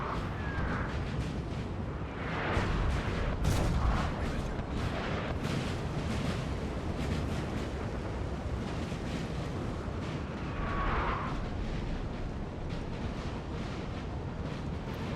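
Artillery fire in a Napoleon: Total War 4v4 battle, dense overlapping booms and rumbling blasts forming a steady loud barrage, with a few heavier bursts around the middle and later.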